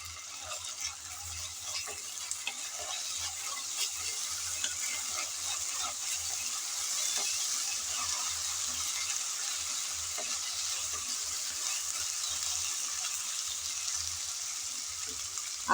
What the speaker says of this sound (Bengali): আদা আর রসুন বাটা দিয়ে হালকা করে নেড়ে চেড়ে ভেজে নিয়েছি